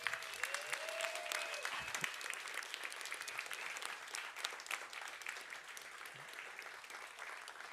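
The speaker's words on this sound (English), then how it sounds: "give a round of applause for the speakers" A conference audience at a Flutter developer event claps for the speakers on the main stage, a fairly quiet, steady wash of applause with a brief faint voice early on.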